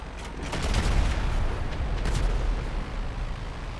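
Bombs exploding in GTA Online, a dense, continuous rumble of deep blasts and crackling bursts lasting several seconds without talk.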